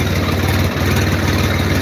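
A tractor engine idles steadily close by, a loud, unbroken low diesel rumble with no other sounds.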